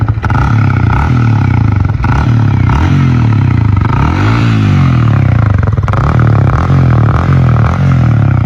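A modified Yamaha R15 V3 motorcycle with an aftermarket exhaust revs repeatedly below 4000 rpm, loud and close, each blip rising and falling in a steady rhythm over a rumbling idle.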